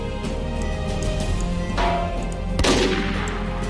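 Sniper rifle fire in the Roblox game Plates of Fate: Remastered, loud gunshot bursts over busy game sound, with a sharp crack near the end of the stretch.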